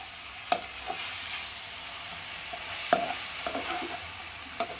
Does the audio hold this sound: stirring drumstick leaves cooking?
yes